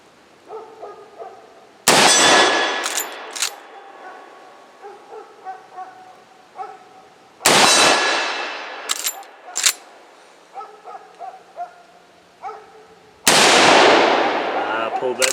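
Three loud rifle shots ring out at about 50 yards on a range, each followed by the sharp clang of a swinging steel silhouette target and a ringing decay with smaller metallic taps, spaced several seconds apart.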